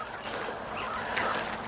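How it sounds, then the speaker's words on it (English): A flock of chickens clucks and chatters nearby with busy overlapping calls, a steady farmyard racket with no talking. "Look at all my chickens coming."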